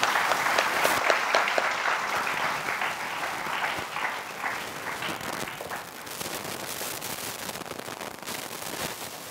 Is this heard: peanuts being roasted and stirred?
no